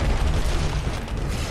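A missile barrage explosion in the Costume Quest video game, heard as a loud, dense, sustained rumbling boom that fills the short stretch without a break.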